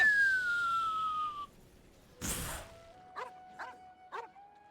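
Dog in the Genshin Impact video game gives a sharp yelp-like bark, followed by three short, quieter woofs in quick succession over a faint electronic tone, after a descending synthetic whistle.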